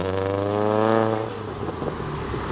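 Subaru WRX engine revving hard up near redline during a launch, a loud rising harmonic whine that holds steady, then drops off into rougher rumble and wind noise; a faint burning-clutch condition is present.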